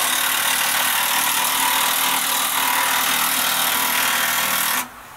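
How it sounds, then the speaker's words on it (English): A deck winch on a tow truck pulls to straighten a wrecked box truck's axle, giving a loud, steady grinding drone that runs for about five seconds and then cuts off abruptly. "using the deck winch on Hulk."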